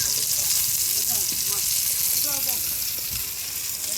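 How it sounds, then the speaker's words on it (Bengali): Hilsa fish fries in oil at a seaside food stall, giving off a steady loud sizzle and hiss throughout. Faint voices and scraping sounds are heard under the sizzle. "এখানে ইলিশ মাছ ভাজা হচ্ছে"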